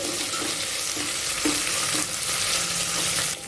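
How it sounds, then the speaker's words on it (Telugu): Chopped onions, green chilies and curry leaves sizzling steadily in a hot pan, with occasional stirring scrapes and no voices. "ఇప్పుడు వీటిని ఒక రెండు నిమిషాలు ఫ్రై చేసుకోవాలి"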